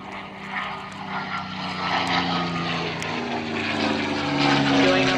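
Warbird fighter plane performing a four-point roll at an airshow on the prairie, its propeller engine droning steadily and swelling slightly louder toward the end, with broadband noise spread across the whole clip.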